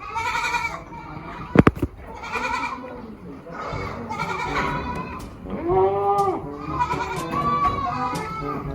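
Several goats on a Philippine goat farm bleat repeatedly, near and loud, with calls overlapping while people talk nearby.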